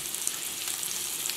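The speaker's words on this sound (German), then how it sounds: "Die Kartoffeln werden noch in der Pfanne hin und her geschwenkt." Potatoes with chopped parsley frying in a pan as they are swirled back and forth, giving a steady close hiss and crackle of hot oil.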